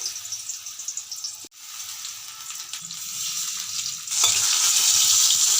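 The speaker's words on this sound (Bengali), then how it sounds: "এখন বেসন মাখিয়ে দিয়ে দেবো তেলে সবগুলো ভেজে নেবে এক একটা করে" Banana flower pieces coated in gram flour batter fry in hot oil, giving a steady close sizzle and crackle that swells louder near the end, with no talking.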